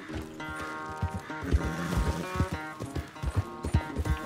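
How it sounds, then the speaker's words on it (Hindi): Horse hooves clip-clop in an irregular walking rhythm in Red Dead Redemption 2, close and fairly loud, with a steady tonal in-game music bed underneath. "Good horse."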